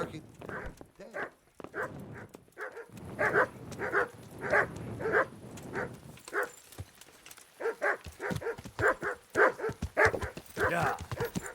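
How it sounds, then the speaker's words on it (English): A dog in Kingdom Come: Deliverance barks repeatedly in short rhythmic bursts at close range, with a brief pause midway before the barking resumes, over faint ambient game background. "Why are you barking?"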